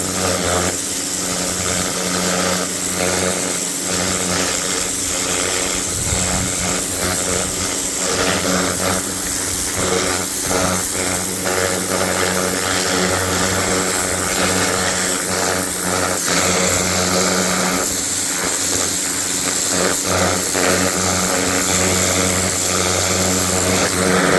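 A Kärcher pressure washer cleaning crucian carp runs loud and steady, a continuous droning spray with slight surges throughout and no talk.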